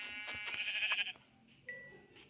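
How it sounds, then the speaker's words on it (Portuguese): A Minecraft sheep lets out a loud wavering bleat as a player strikes it, followed by a couple of soft thuds and a short, bright game tone. "Tô matando a ovelha aqui"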